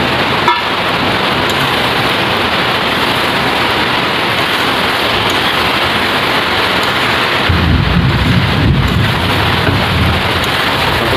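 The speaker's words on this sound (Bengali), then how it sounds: "বর্ষাকাল, বৃষ্টি হচ্ছে প্রচুর।" Heavy monsoon rain pours down in a loud, unbroken roar, with a deep rumble of thunder swelling near the end.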